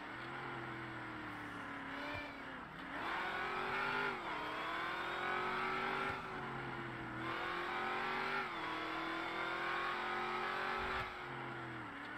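A car engine in a roleplay driving game revs hard and steadily, its pitch climbing and dipping through gear changes over a dense, loud drone that never lets up.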